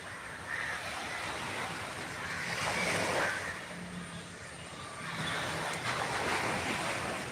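Waves roll onto Fort Kochi beach in a steady wash of surf, swelling and easing in slow surges under light wind, heard from a short distance with no talk.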